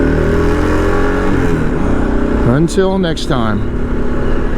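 A motorcycle on new Michelin Anakee tires rumbles close by, then revs sharply twice in quick rising bursts before settling back to a steady idle-like drone, with a voice speaking briefly over it.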